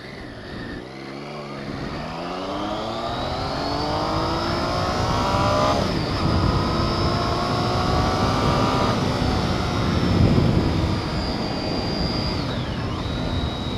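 A car pulling away hard from a standing start on a 0 to 60 run, engine climbing through rising revs with gear changes, loud and close inside the cabin, continuous for the whole stretch.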